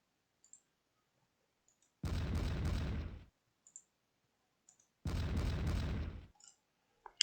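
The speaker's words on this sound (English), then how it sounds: "if he wants to sit under cannon fire, that's" Cannon fire in the Pike and Shot strategy game, two long booming roars of a volley each lasting about a second, separated by quiet gaps with faint interface clicks.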